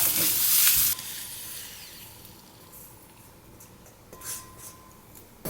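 Spinach sautéing in a frying pan gives a bright, loud sizzle at first, then drops to a quieter, steady hiss with a few soft stirring scrapes.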